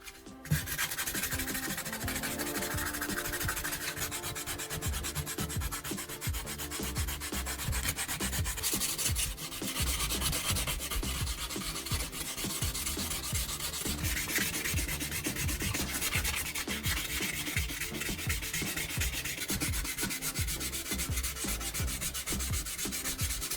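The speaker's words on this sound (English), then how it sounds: "take a piece of medium grit sandpaper and gently sand the repaired area" Medium grit sandpaper rubbed over a hardened cement patch beside tile, a steady, close, dense scratchy rasping that carries on without pause for over twenty seconds, with no voices.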